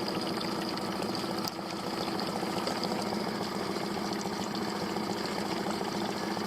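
A fishing boat's engine, one with thermostat trouble, runs steadily with an even, droning hum and a faint watery churn. It stays constant throughout, with only one brief dip and no one speaking.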